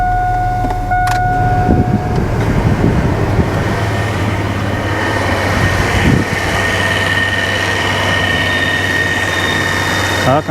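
Chevy S-10 pickup running with the AC on max. The air-conditioning compressor kicks on with a steady mechanical hum and a thin squealing whine over the engine drone, close and fairly loud.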